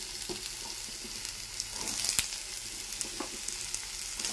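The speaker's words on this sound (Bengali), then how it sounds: "এবার দিয়ে দেবো সবজিগুলো, কেটে রাখা সবজিগুলো।" Cut vegetables including potatoes frying in a pan with onion, a soft continuous sizzle broken by a few stirring scrapes and clinks, quiet and close, with no talking.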